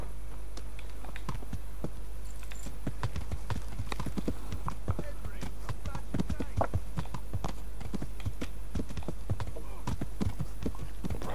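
Horse hooves clip-clop at a steady walking pace in the video game Kingdom Come: Deliverance, a continuous run of close, crisp hoof strikes with a low constant hum underneath.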